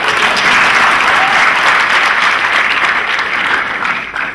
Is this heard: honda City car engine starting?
no